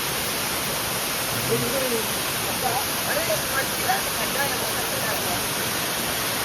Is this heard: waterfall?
yes